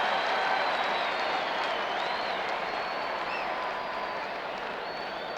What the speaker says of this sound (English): And a lusty cheer for Kent Hrbek.